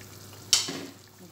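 A pot boiling vigorously on the stove during cooking bursts into a sudden sharp hiss, then settles into a softer bubbling sizzle that fades over about a second, close and moderately loud.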